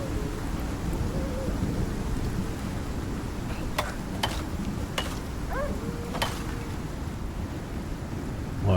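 A thunderstorm in the survival game Icarus: steady heavy rain hisses throughout while several sharp, bright cracks of thunder split the air a few seconds apart.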